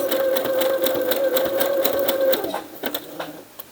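A sewing machine runs a zigzag stitch on fabric, humming steadily with a rapid rhythmic whir up close, then slowing into a few separate clicks as it stops.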